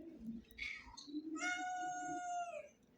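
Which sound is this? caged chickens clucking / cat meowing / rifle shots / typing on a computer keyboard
cat meowing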